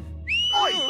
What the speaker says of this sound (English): You thought some loud whistle would stop us?